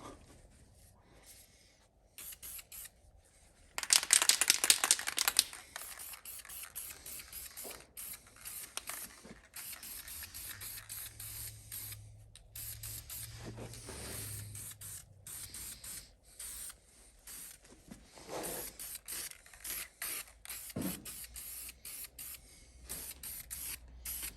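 A spray can hisses in one loud, steady burst of a few seconds as snowblower shoes are coated gray on cardboard. Quieter handling noises and faint shorter hisses follow.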